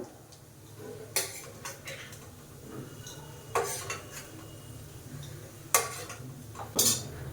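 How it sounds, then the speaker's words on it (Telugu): Fried prawns lifted out of a pan: scattered metallic clinks and scrapes of a spatula against the cookware, close by, over a faint low sizzle, with no talking. "రొయ్యలు మంచిగా ఫ్రై అయిపోయాయి ఇప్పుడు వీటిని తీసేసుకుందాము"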